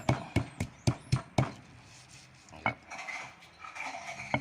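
A utensil mixes a beef marinade in a bowl, with a quick run of sharp clinks and taps up front, then softer scraping and a few scattered knocks, close and fairly loud.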